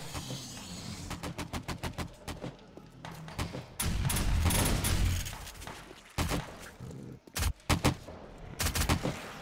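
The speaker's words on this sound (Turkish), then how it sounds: "Lan ne çatışma sesi geliyor yalnız ha" Bursts of rapid gunfire from a firefight in the survival game 7 Days to Die, with dense volleys, loud sustained stretches and sharp separate shots, no talk over them.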